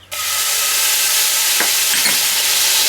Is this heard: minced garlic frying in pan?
yes